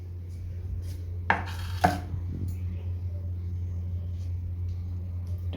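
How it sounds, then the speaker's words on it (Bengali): Fresh fish such as rohu or foli being cut on a board at home, with two sharp, loud chops close together and a fainter knock after, over a low background hum. "মাছ কাটা হয়ে গেছে"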